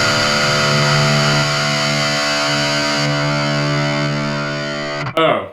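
Electric guitar through a Line 6 Spider amp on its insane distortion mode rings out as a heavily saturated, buzzing sustained chord, then is cut short by a sharp scrape at the end.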